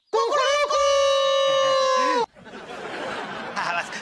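A voice loudly imitates a rooster crowing in one long, strained call, followed by softer chatter and laughter.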